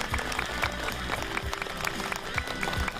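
A television health show's studio audience gives continuous, fairly loud applause to welcome a cardiologist, dense overlapping claps over a faint low musical hum.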